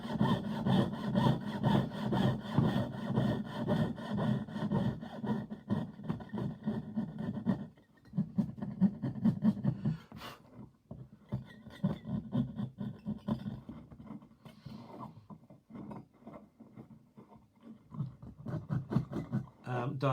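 Hand filing of a diamond-shaped piercing: steady, rhythmic rasping strokes of a file run nearly continuously, with a brief pause and a few clicks midway, and a voice talks faintly in the background.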